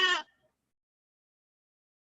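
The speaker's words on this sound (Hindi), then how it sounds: "बकरी गुरी है क्या जी?" A goat gives one short, loud bleat right at the start, close to the listener, followed by silence.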